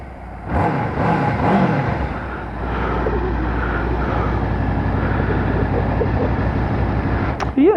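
A warmed-up Honda VFR800 motorcycle engine idles with a steady, close, low-pitched drone that holds evenly throughout, ending in a brief sharp noise.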